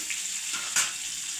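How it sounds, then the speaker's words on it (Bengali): Boiled potato pieces fry in oil with salt and turmeric, producing a loud, close sizzle with a brief stirring clatter partway through the short burst. "আলুগুলো আমি এগুলো ভেজে নেব নুন হলুদ দিয়ে।"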